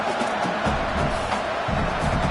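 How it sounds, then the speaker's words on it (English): A crowd roars steadily in a college football video game, Cal against UCLA, as the home defense tries to hold in the red zone, a broad continuous wash of cheering with no pauses. "The crowd getting behind this defense as they try to get a stop in the red zone"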